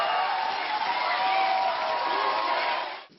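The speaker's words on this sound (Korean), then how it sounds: "큰 용단을 내려주신 문재인 대표를 위한 힘찬 박수를 갖다 보내주시기 바랍니다" A crowd at a party event cheers and applauds loudly for the party leader Moon Jae-in, a dense, sustained roar of clapping and shouting that cuts off abruptly near the end.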